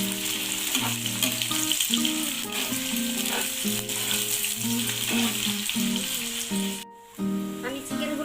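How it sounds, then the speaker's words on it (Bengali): Onions sizzle and crackle in hot oil while cooking chicken biryani, a dense, steady frying hiss with clinks and rattles from stirring and a short near-silent gap near the end. "তেলটা গরম হয়ে গেছে, আমি পেঁয়াজগুলো দেব।"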